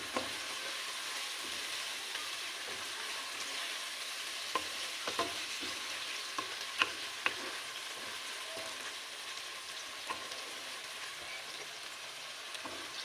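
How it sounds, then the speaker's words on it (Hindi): Taro (arbi) frying and being stirred in masala in a pan, a steady close sizzle with scattered scraping clicks from the spoon throughout. "अरबी और मसाले को हम तकरीबन 5 मिनट तक हम भूनेंगे अच्छी तरह से"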